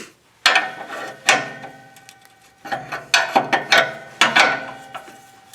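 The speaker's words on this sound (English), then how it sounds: "And let's tighten it up." A hand ratchet clicks in quick bursts while tightening a part on a 2011 Toyota Sienna, close and crisp with short pauses between strokes, no talk.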